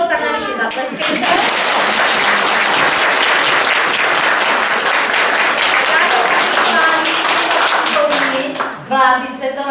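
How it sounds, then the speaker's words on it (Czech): Loud, sustained applause from an audience at a kindergarten performance, dense clapping that holds steady for several seconds, with voices talking briefly at the start and end. "Jestli se vám líbilo, tak nám ještě zatleskejte."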